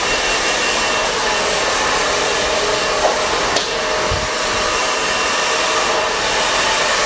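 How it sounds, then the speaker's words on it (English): A hair dryer blows steadily during a styling session with hair spray product, a loud continuous whoosh that stays even throughout with only tiny knocks. "and the hair dryer."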